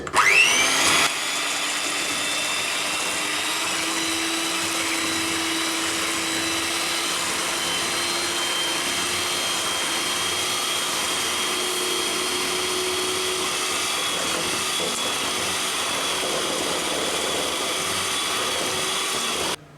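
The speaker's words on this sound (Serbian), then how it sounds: "Nakon što sam polomila 5 jaja, umutit ću mikserom i dodati u mazu 300 grama šećera." An electric hand mixer beats five eggs in a bowl for a Serbian fruit and walnut cake, giving a steady, loud motorized whir that runs nearly unchanged for about twenty seconds with no talking.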